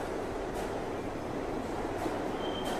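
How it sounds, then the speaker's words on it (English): Loud train noise in an indie horror video game, a continuous low rumbling roar of rolling carriages with faint high squeals drifting in and out. "besides being full of loud train noises"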